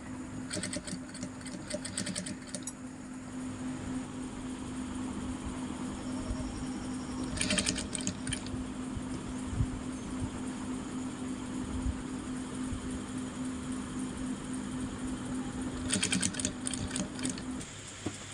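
A sewing machine stitches a blouse back neck with a lace finish, whirring in a steady hum with short, faster bursts of stitching near the start, middle and end, close and fairly quiet, no talking.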